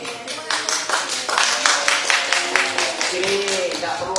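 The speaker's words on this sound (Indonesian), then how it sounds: "Sini tidak perlu ada tepuk tangan" Applause breaks out in an Indonesian courtroom during a hearing, a dense patter of many hands clapping in bursts for several seconds, with voices talking over it.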